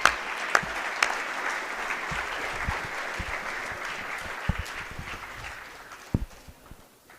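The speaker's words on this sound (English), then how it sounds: "Round of applause for all our teams." At a high school wrestling meet, an audience in a gym applauds the teams, producing a steady wash of clapping with a few sharper, nearer claps that fades toward the end.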